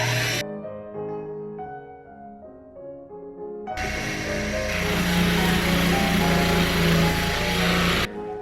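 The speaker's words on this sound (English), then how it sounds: "Now we just need to take it over to the wheels and grind it down a little bit, polish it, pumice it" Lab polishing wheel grinding down a dental retainer made from a squishy cake, a steady high whirring hum that starts partway through and runs loud until it cuts off near the end.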